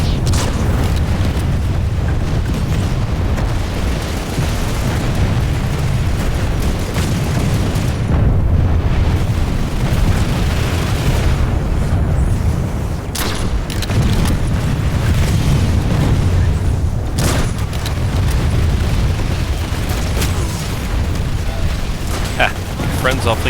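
Constant heavy gunfire and rumbling explosions pound around a building during a Planetside 2 tower defense battle, loud and dense throughout with sharp bursts, while a player talks over the din.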